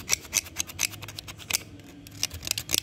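Sandpaper scuffing chipped paint off a Pajero 4M40's spare tire rim before repainting in matte black, heard as a fast series of short, close raspy strokes in an uneven rhythm.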